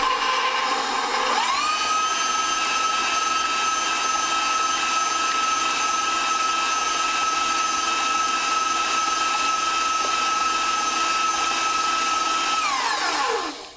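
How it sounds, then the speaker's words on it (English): An electric kitchen mixer beating four eggs with half a cup of brown sugar, a steady high whine that ramps up, holds evenly for about twelve seconds, then winds down at the end, with no talking. "now I turn the mixer on and mix up those 2 ingredients"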